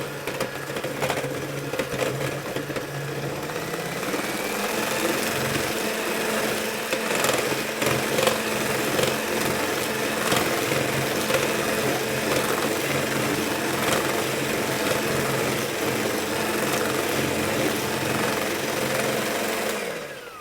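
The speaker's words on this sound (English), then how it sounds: "that's all we need to do with the mixer" An electric mixer whisks Swedish visiting cake batter with almond extract and salt, a steady whirring motor hum running continuously for about twenty seconds without talk.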